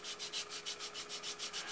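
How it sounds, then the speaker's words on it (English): A 240-grit sanding block smooths the edge of a supercapacitor build piece in quick, regular back-and-forth strokes, about ten rasping passes, close and quiet with no talking. "Get our sanding block with the little 240"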